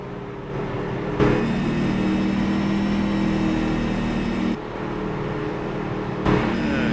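Race truck engines at Charlotte rumble steadily as damaged trucks roll back off pit road, a sustained mid-pitched drone with brief louder surges as vehicles pass close.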